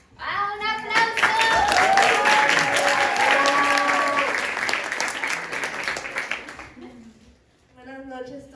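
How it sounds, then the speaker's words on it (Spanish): Audience applause at a Spanish-language poetry slam in Chicago, a dense burst of clapping that swells and fades, with voices and cheers over it and a brief speaking voice at the end. "¡Ah, un aplauso!"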